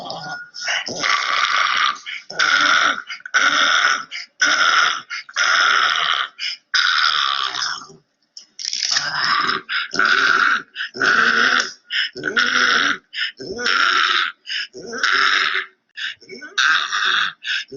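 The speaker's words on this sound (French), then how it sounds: "Vous voyez qu'il souffre quand même chaque fois qu'il doit respirer" A pug struggles to breathe, giving loud, close, rhythmic bursts of raspy laboured breathing and grunting, each one separated by a brief pause, repeating steadily throughout.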